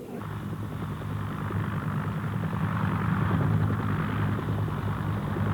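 Naval helicopters from the US 7th Fleet shuttle evacuees out of an embassy, a steady droning rotor and engine roar that holds loud and continuous throughout with no break.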